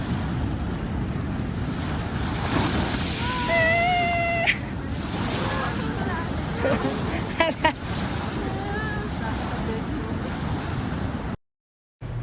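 Sea waves washing onto the beach at Bolinao, Pangasinan, a steady broadband surf roar with wind buffeting the microphone, while a person briefly exclaims and laughs over it.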